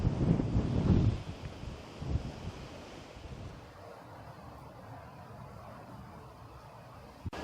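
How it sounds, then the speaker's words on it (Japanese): Strong east wind buffets the microphone on Ukeshima island in the Amami islands, a loud rumbling gust at first that eases into steady blowing with surf-like hiss, no talking. "今日は風が強いですね。 東風が強いって感じかな。"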